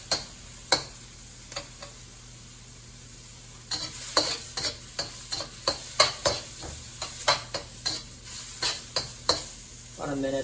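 Shrimp and scrambled egg stir-fry in a pan, a soft continuous sizzle under a run of sharp, uneven spatula taps and scrapes that grow busier midway, close and with no talking.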